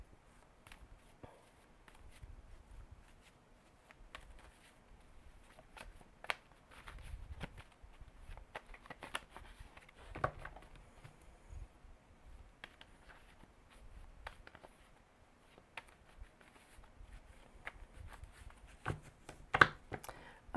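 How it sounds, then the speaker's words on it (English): Tarot cards being shuffled by hand in a quiet room, a soft run of riffling and slapping bursts with short pauses, close and fairly faint, one sharper snap near the end. "just a couple more really good shuffles"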